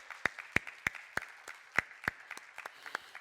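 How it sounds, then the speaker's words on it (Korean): A church congregation applauding in thanks during a Sunday worship service: a sparse, rhythmic clapping, fairly faint and distant, with evenly spaced sharp claps standing out over a soft background patter. "모두 박수로 감사를 표현해 주시겠어요?"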